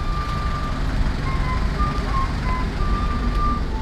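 City street traffic in Buenos Aires, a steady low rumble of vehicles with repeated high electronic beeps, like a bus or truck backing up, close by and continuous.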